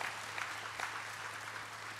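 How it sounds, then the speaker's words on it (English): Audience applause at the Live Well, San Diego! Summit 2012, a steady wash of many hands clapping that stays even and moderately distant for two seconds, with a low hum underneath and no clear talk. "Let's give you all a round of applause."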